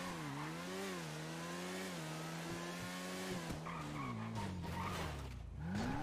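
Car in GTA V skidding and drifting, a loud continuous tire squeal that wavers and bends in pitch over engine drone, rising again near the end, no talk.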